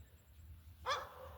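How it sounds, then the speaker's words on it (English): Neighbor's dog Winston gives a single short bark, faint and somewhat distant, over a low outdoor rumble. "Dogs bark. That's the dog's life."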